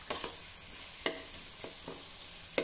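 Ingredients stirred in a pan with a utensil for a Varhadi bharad, with several sharp scrapes against the pan over a soft steady sizzle and no voices.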